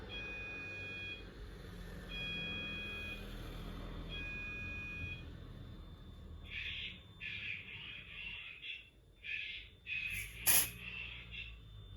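An optical smoke sensor on an addressable fire alarm system sounds its pre-alarm during a test: repeated short electronic beeps, then a run of brighter chirping pulses, fairly faint against a low background hum.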